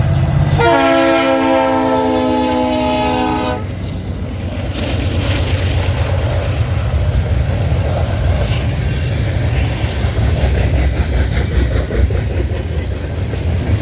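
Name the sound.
freight train horn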